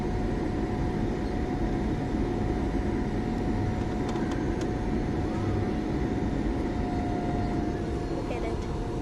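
Boeing 737 MAX airliner on approach to landing, a loud, steady broadband engine roar with a faint sustained tone, continuous throughout and with people talking over it.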